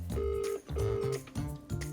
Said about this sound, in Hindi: तो लाचा को फोन लग रहा है।